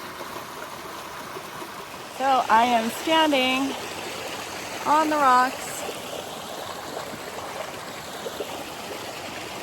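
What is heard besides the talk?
waterfall and flowing stream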